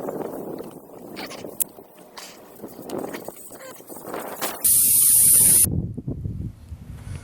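Air bursts out of a tire valve stem with its core pulled by a four-way tool, a loud steady hiss lasting about a second amid handling noises and rustling.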